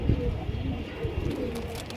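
Chuyachandan hen and shirting cock pigeons, a pair of fancy breeds, cooing softly and repeatedly at close range amid a faint room hum.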